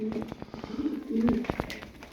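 Soft cooing of a pigeon, likely a tumbler breed, low throaty warbles repeating close by, with a few faint clicks and rustles mixed in.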